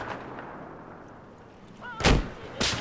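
Sniper rifle shot in the video game Battlefield 4: after a low rumbling battlefield ambience, a loud sharp crack hits near the end, followed by a second blast.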